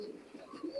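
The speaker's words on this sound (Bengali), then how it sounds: "দেখেন কবুতর দুইটা দেখেন" Pigeons imported from Oman, a Teddy pair, give a few soft, low coos close by, short and fairly quiet against a faint background.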